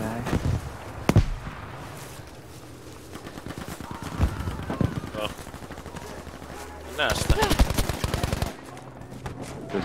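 Gunfire in the shooter Battlefield V, with scattered sharp shots and a rapid burst of automatic fire amid battlefield noise, while players talk over it.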